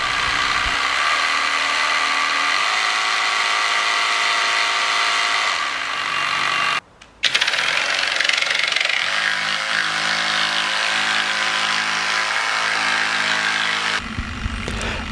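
A Flex JS 18.0-EC cordless jigsaw runs with a loud, continuous buzzing whine and rattle, cutting out briefly midway before resuming just as strongly.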